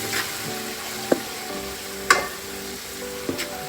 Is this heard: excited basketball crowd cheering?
no